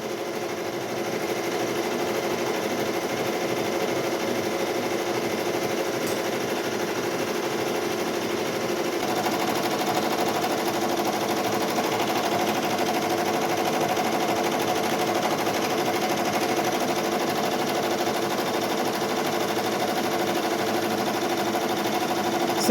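A Ricoma embroidery machine stitches a butterfly design onto a towel with a steady, rapid mechanical chatter that holds an even rhythm and level throughout, close and without talk.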